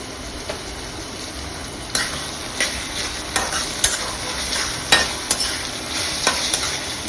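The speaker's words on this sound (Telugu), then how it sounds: "ఉల్లిపాయ బాగా ఎర్రగా వేగాలండి." Onions and green chillies for mutton keema fry in a pan, a steady sizzle broken by a string of sharp spatula scrapes and clacks every second or so, close and fairly loud, with no voices.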